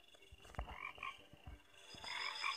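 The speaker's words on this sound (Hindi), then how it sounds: "ओ भाई मेंढकों की आवाज आ रही है" Frogs croak in a stretch of the Takashi Ninja Warrior video game, a dense chorus of repeated low croaks and chirps at moderate loudness, with no talking.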